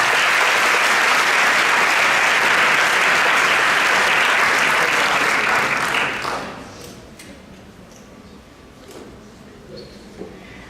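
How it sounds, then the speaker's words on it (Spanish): An audience at an academic lecture gives loud, dense applause as a geopolitics expert is welcomed to the stage. The clapping is strong and steady for about six seconds, then drops off quickly into a quiet room. "Recibámoslo con un fuerte aplauso"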